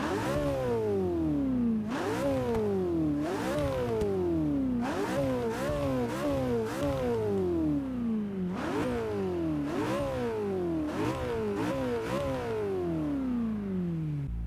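McLaren 570S twin-turbo V8 in the Forza 6 racing game, revved repeatedly in a steady series of sharp rising blips that fall back each time, loud and close with no talking.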